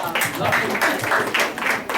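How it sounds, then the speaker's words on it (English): A brief round of applause at a silk heritage collection evening event, with dense clapping from a crowd mixed with a voice. "I would like to just give a round of applause."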